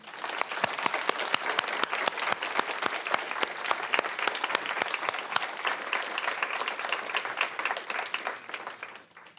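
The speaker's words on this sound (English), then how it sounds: "I want you to join me in giving my dad a round of applause." Audience applause at a university lecture on schools and policy, steady dense clapping that runs for several seconds before fading out at the end.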